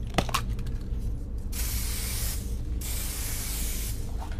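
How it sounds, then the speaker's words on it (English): An aerosol spray can hisses in two sustained bursts, each about a second long, sharp and close, following a few faint rattles and clicks. "Cranky's graffiti is made with an aerosol."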